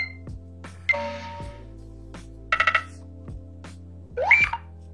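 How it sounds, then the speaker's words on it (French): A Nothing Phone 2 plays a series of short electronic notification tones, each a distinct chirp, ping or rapid pulsed burst separated by brief silences, clear and close. "je vous montre aussi les sons des notifications."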